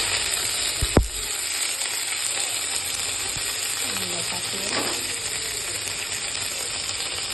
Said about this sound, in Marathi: मिरची चांगली भाजली गेलेली आहे कडीपत्ता पण चांगलं भाजलेला आहे